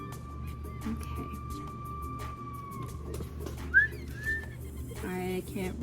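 A person whistles a tune while playing Zoo Tycoon 2: a long, steady held note, then a few short sliding chirps, moderately loud over faint game background sounds.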